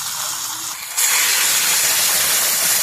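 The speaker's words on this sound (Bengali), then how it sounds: "এবার আগে থেকে জল গরম করে আসছে, সেই জলটা ধরে দেবো।" Hot water hits oil frying with potatoes in a jackfruit and prawn curry, a quieter sizzle suddenly erupting into a loud, steady, close hiss of steam that carries on to the end.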